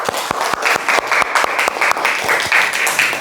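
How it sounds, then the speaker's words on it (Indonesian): A classroom of schoolchildren claps together in a quick, fairly regular rhythm, close and loud, a steady run of hand claps lasting the whole stretch. "Tepuk tangan untuk kita semuanya."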